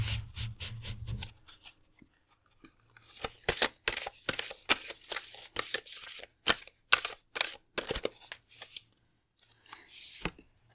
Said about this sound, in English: let's grab some more cards